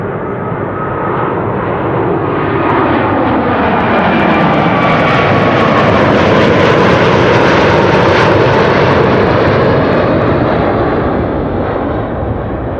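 An Airbus A350-1000 arrives at Amsterdam Schiphol Airport, a loud, sustained jet roar that swells and holds as it passes close overhead, then eases slightly, with no voices.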